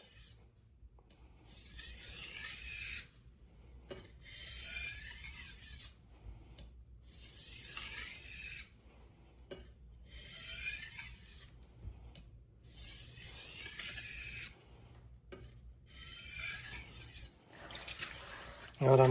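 A chef's knife being deburred on a sharpening stone: repeated bright, hissing scrapes in regular strokes with brief pauses between them, close and fairly quiet, with no talk.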